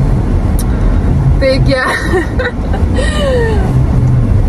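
A car drives along the road with a steady low engine and road rumble while someone talks over it almost throughout.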